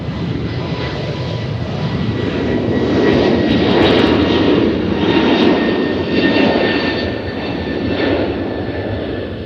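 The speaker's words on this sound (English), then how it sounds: "All right, so the British are in. Look at them taxiing around." A British airliner jet taxis at Nashville International Airport, its steady engine roar filling the scene, swelling slightly in the middle and holding loud and continuous throughout.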